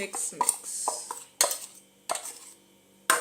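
Sugar and melted margarine are stirred together in a bowl for a stovetop carrot cake, with a utensil scraping and clinking against the bowl in uneven, close taps and swishes.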